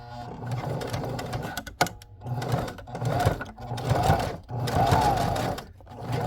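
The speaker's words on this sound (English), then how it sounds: "All right, so let's go ahead and sew this. Okay, so I have it on a regular stitch." Sewing machine running a regular stitch at stitch length 4 while sewing a vintage-style needlebook, a steady close mechanical whir with brief pauses and restarts.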